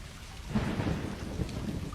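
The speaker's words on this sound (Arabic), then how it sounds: "امطار رعدية صح" A thunderstorm in a video game: steady, dense rain hiss with a low rolling rumble of thunder swelling underneath, loud and continuous for the whole stretch, with no voices.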